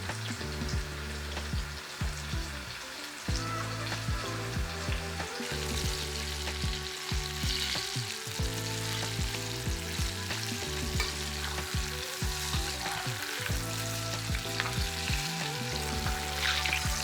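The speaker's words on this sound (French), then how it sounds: "Là, nous passons à la friture." Ourite (octopus) deep frying for a crispy croustillant dish fills the air with a steady, dense sizzle and crackle that continues throughout, with faint background music underneath.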